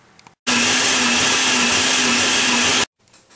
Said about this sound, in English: now grind all this in a mixer